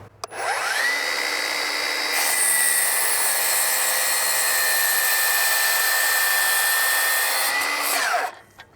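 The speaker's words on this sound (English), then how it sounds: "I don't feel like the motor's struggling at all cutting this 2x4." A Milwaukee power saw runs through a warped 2x4, a loud steady high whine that spins up, holds for several seconds through the cut, then winds down, close and alone.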